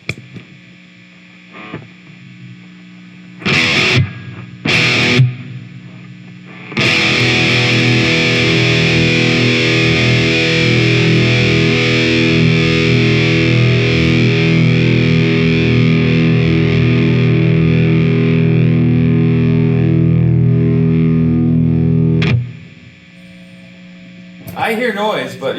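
A 1996 Fender Stratocaster Ultra through an amp's lead channel gives a loud sustained distorted chord ringing for about fifteen seconds after a few short bursts, then cutting off to quiet hum before brief strums.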